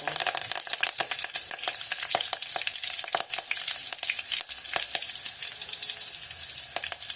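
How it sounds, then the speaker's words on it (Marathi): Curry leaves hit hot oil with golden fried onions for a drumstick curry, giving a dense crackling sizzle with frequent sharp pops throughout, close and continuous. "कांदा असा भाजून घेतला की त्यात आता आपल्याला कडेपत्ता घालून"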